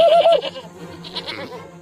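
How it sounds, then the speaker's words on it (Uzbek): A goat bleats close and loud with a wavering cry, followed by fainter rustling and softer bleats in the background. "Kimning echkisi bu?"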